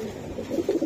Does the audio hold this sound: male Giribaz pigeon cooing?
yes